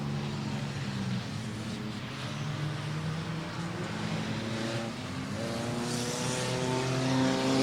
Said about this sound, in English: There goes the number 902 car.